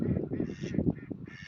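Ducks quacking in a park near a tunnel of love ride, a close run of rapid, nasal honking calls that overlap densely for a second and a half.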